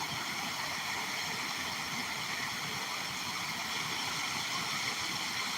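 Steady, even rush of running water from a stream at a waterfall, a continuous broadband roar filling the whole stretch with no talk.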